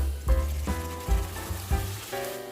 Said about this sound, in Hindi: अब मैं इसके अंदर बॉईल की हुई दाल ऐड कर दूंगी